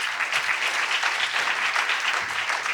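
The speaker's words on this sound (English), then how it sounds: "please welcome Dr. Chu with a warm round of applause" An audience welcomes Dr. Tang Yuan Chu to a keynote with sustained applause, many hands clapping evenly at a moderate, somewhat distant level.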